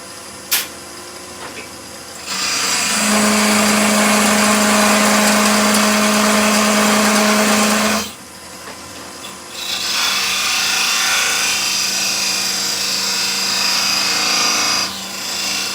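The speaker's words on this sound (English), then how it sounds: "So what I'm doing here is a little side scrape with a parting tool" Wood lathe with a parting tool doing a side scrape on a turning piece, loud close scraping in two long bursts with a hum under the first, separated by a short quieter gap.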